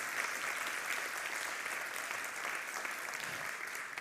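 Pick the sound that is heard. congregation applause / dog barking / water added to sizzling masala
congregation applause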